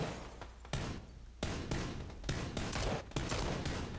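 Sharp, loud gunshots in the battle royale game PUBG on Xbox One crack out in a quick irregular series, each report ringing briefly before the next.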